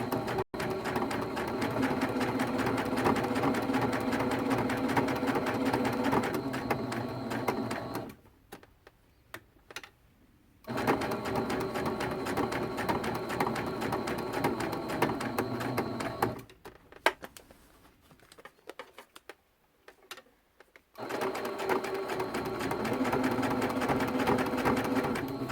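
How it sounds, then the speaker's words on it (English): A sewing machine stitches through phonebook paper used as a stabilizer, running in long steady bursts with a rapid mechanical rhythm, pausing twice briefly before resuming, loud and close with no talking. "the machine does not have any issues sewing through the paper"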